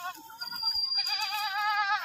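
A young white-and-brown spotted Gujri goat of about 30 kg bleats at a goat farm with one long wavering cry that rises partway through, close and clear over faint background noise.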